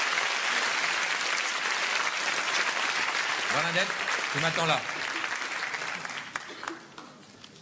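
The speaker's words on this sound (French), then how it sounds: "Vous pouvez l'applaudir, car elle a essuyé les plates." An audience at a French comedy show applauds in a steady, full burst of clapping that tapers off toward the end, while someone speaks briefly over it.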